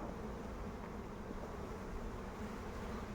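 Dense honeybees crowd a two-storey hive, a steady, close, even buzz filling the air without pause and with no voices.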